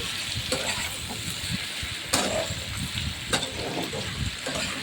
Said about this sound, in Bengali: নুন হলুদ দিলাম দিয়ে হালকা করে কিন্তু নেড়ে নিচ্ছি